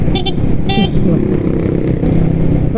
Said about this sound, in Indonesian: klakson gua udah gua pencet ya.